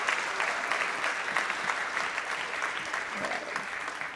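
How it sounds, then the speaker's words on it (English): Sustained audience applause at the valedictory function of the 22nd Justa Causa 2025, honouring Team Justa Causa. It is a steady, full-room wash of clapping that holds evenly throughout, with no voice rising above it. "So a very big round of applause to Team Justa Causa."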